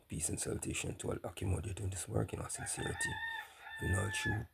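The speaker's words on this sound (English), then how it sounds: "I have some cocks that are crowing, roosters, I should say, are crowing early morning" Roosters crowing in the early morning, several drawn-out crows heard behind someone speaking steadily in the foreground.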